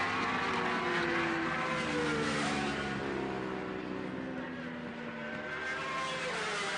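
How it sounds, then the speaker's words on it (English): Superstock 1000 motorcycles race around the Pannonia Ring in Hungary, their engines droning and shifting pitch steadily throughout, a loud continuous roar with overlapping bikes passing. "Six and a half laps to go in this Superstock 1000 race"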